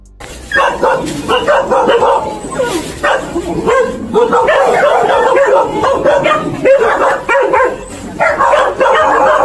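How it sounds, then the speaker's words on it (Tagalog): A pack of roughly fifteen dogs barks, yips and whines in a loud, continuous overlapping clamor while attacking a cat, with frantic bursts throughout and no pauses. "Kahit na nasa 15 mga aso ang binalak siyang atakihin"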